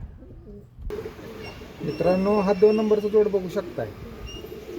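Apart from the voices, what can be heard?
pigeons cooing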